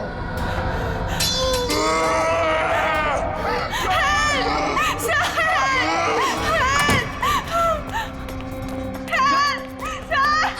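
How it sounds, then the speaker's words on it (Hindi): A woman screams and cries out in a tense scene from a Hindi crime drama, with repeated high, wavering wails over a busy, noisy background and clinking sounds. "चीख क्यों रही हो?"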